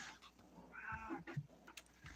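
A cat meows faintly a few times somewhere in the background of a quiet indoor room.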